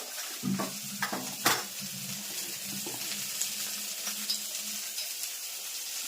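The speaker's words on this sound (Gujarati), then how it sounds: "સરસ મજાનો વઘાર થઈ ગયો. એમાં નાખ્યો હવે મસાલો, ચટણી, ધાણા જીરું અને હળદર" Spices, chili paste, coriander-cumin powder and turmeric go into sizzling tempering oil for a pea curry, a steady close sizzle with a few stirring knocks and clinks of the pan early on, no voices.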